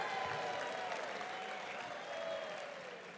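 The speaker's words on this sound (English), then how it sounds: "Let's give a round of applause for all 8 communities." An audience applauds at a live announcement of the RAGBRAI LIII bicycle ride route, steady clapping with a few crowd voices, somewhat distant and faint throughout.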